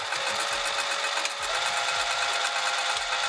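A sewing machine stitches a roll-up wrap back and forth, its needle running in a rapid steady whir interrupted by brief low thumps as the direction changes, close and alone.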